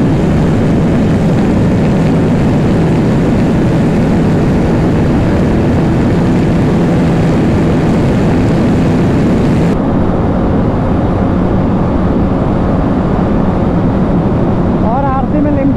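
A Bajaj Pulsar RS200 BS7 with a 39-tooth sprocket drag races a KTM RC200. The engines make a loud, sustained high-revving drone mixed with heavy wind rush for the whole stretch.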